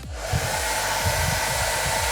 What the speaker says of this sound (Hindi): ये हमारा लड़कियों वाला हेयर ड्रायर जो कि मैं यूज़ करता हूँ अपने हेयर में